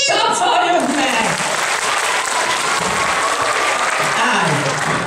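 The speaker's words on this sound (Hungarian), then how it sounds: "Tapsoljuk meg!" A children's folk music concert audience applauds steadily throughout, a dense, continuous clatter of many hands filling the room at close range.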